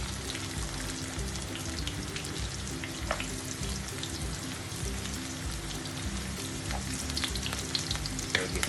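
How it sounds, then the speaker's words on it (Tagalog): Onions sautéing in a pan for vegetable spring rolls, a dense, rain-like crackling sizzle held steadily throughout with occasional faint stirring taps, no voices. "So, gisa-gisa lang po natin. Lutuin natin ang ating sibuyas."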